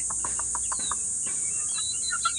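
Young gamefowl chicks cluck and peep in quick, close bursts, a short run of bright calls over a faint background hiss.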